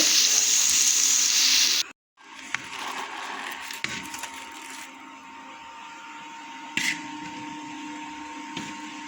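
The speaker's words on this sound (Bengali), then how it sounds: "আলু ভাজাটা বসিয়ে দিয়েছি" Potatoes frying in a pan give a loud, steady sizzle at first, then a brief drop to near silence, followed by a quieter, continuous crackle with occasional clinks in a home kitchen.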